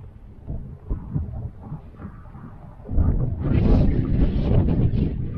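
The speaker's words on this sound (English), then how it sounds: "Wind's still pumping." Strong wind gusts buffet a microphone outdoors at a bush camp in Hogsback, a low rumbling roar that swells much louder partway through and stays loud to the end.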